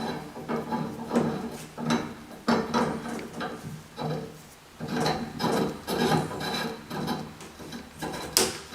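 A valve stem is threaded back into a valve body by hand, producing close, intermittent rasping and scraping strokes in uneven bursts with brief pauses between them, with no one speaking.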